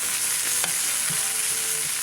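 Garlic, sriracha and meat fry in a pan for a breakfast hash, a steady hissing sizzle with a few faint clinks of stirring, close and continuous with no talking.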